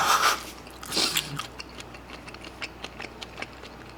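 A few crunchy bites of shrimp toast with sauce open the clip, followed by soft, irregular chewing and mouth clicks close to the microphone.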